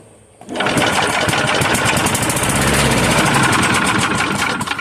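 After fuel is put in the carburetor of a vintage Toro lawn mower, a pull-start sets off a loud, close, rapid mechanical chatter and buzz that starts abruptly and runs steadily for about four seconds, with no talking.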